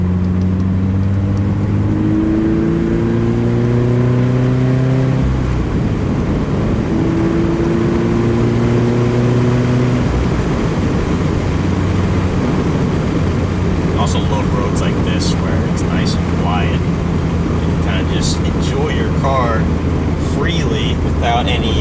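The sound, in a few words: car accelerating and shifting gears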